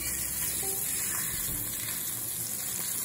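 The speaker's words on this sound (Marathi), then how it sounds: "आता हे दुसऱ्या साईडने आपण मस्त फ्राय करून घेऊया" Marinated, masala-coated bangda mackerel fries in a pan after being flipped, giving a steady, close sizzle with occasional faint stirring sounds and no talking.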